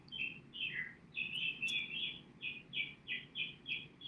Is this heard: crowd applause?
no